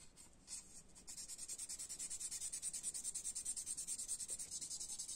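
Hardened putty being filed on a Fujimi 1/24 Porsche 917K Sebring model: a close, steady rasping stroke repeated rapidly and evenly for several seconds after a brief pause, with no talking.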